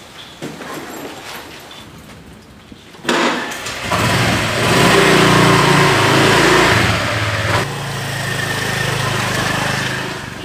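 A motorbike engine catches and starts, then runs at a steady, loud idle close by, with a brief drop in level before settling back into a rough, continuous rumble.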